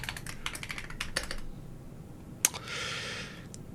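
Typing on a keyboard fitted with Waizowl Christmas Blessing keycaps: quick runs of close, crisp key clacks in bursts, one sharper tap, then a short soft rustle, quiet with no talking.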